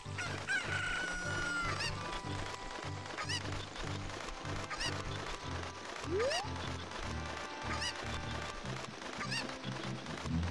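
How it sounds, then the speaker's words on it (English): Chickens cluck and a rooster crows in Ocarina of Time, layered over a steady looping background music track, with one rising bird-like squawk partway through; no talk. "Chickens."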